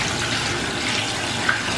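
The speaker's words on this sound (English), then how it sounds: "We have really, really hot water and it's pretty much cranked." Hot water runs steadily from a fully opened tap into a bathtub, a continuous broadband hiss with no talk over it.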